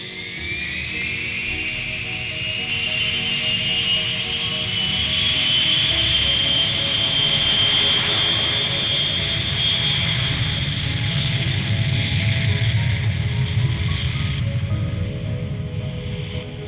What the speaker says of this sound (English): the plane takes off from the runway